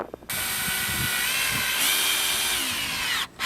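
A power drill drives screws into a wooden chicken coop door, whining at a steady high pitch for about three seconds with a brief pitch rise midway, starting and stopping abruptly, close and loud with no talking.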